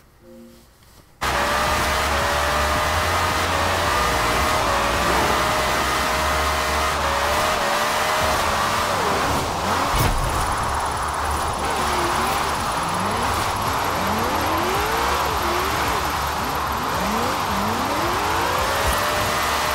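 A 2012 Shelby 1000 with an 1876 hp rear-wheel-drive drift tune in Forza Horizon 4 roars continuously at high revs, the pitch sweeping up and down through gear changes with tire squeal while drifting on a wet track, loud and sustained.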